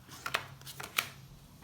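Tarot cards are shuffled for a reading, giving a few soft, quick riffling snaps close by in a quiet room.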